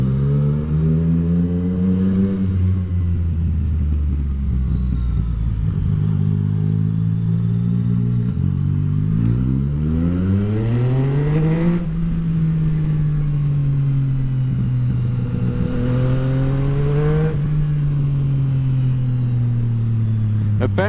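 Yamaha MT-09 motorcycle with a full Akrapovic exhaust, loud and close, its engine note rising and falling through repeated rolling revs and shifts while riding, under continuous wind rush.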